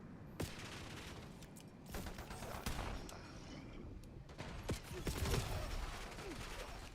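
Rapid automatic gunfire in a Call of Duty match, loud bursts and repeated shots spread through the clip with sharp transients and mechanical clatter, no speech over it.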